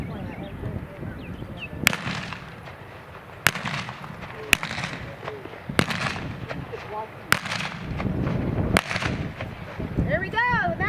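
Gunshots from a mounted shooter riding a horse at a mounted shooting clinic, sharp loud cracks spaced a second or so apart over outdoor ambience, with hoofbeats and people talking between shots.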